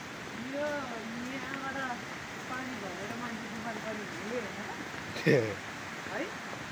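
Water flowing steadily at a dam on the Nepal border near Banbasa: a constant, moderate broadband rush beneath someone talking throughout, with a brief sharp knock near the end.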